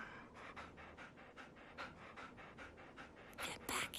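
A dog pants steadily in quick, rhythmic breaths close by, with a brighter burst of sound near the end, in an abandoned urban jungle scene from an animated series.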